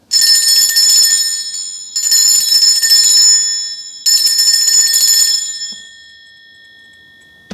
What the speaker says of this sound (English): I will be ringing a bell, which can be quite loud.